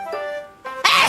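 A loud, forceful sneeze after a brief vocal build-up, ending in a bright, noisy burst, with reverb added to the voice.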